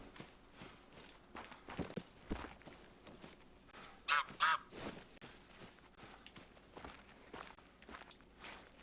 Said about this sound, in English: These geese.